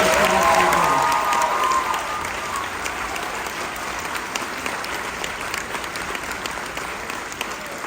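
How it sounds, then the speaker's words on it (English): Sustained audience applause for band directors, loud at first and then settling into steady clapping with a few cheers, heard alone without talk. "can we give the band directors just one more round of applause, please?"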